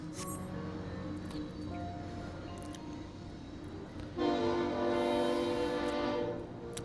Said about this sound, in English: These freaking trains, I swear to god